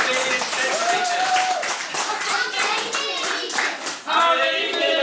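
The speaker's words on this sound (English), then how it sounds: "Let's have a round of applause." An audience claps for a musician who cycled from the UK to Mali, a lively, fairly close round of hand-clapping with children's voices and chatter running through it and a brief dip near the end.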